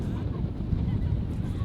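Strong wind of about 40 knots blows across a sailboat deck, a steady close roar of buffeting gusts on the microphone.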